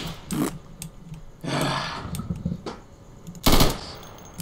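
Three short bursts of gunfire from a burst-fire weapon in the video game Insurgency, each a quick clattering volley separated by brief pauses, the last one loudest.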